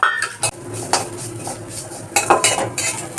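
A metal spoon scrapes and clanks against a wok while vermicelli fries in ghee. Several sharp, close knocks and scrapes come in quick, irregular bursts over a faint sizzle.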